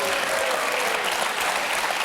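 A television studio audience applauds steadily, a dense sustained clapping from many hands with a faint voice underneath.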